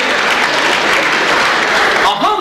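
A crowd at a car rally applauds loudly and continuously, with voices mixed into the dense clapping.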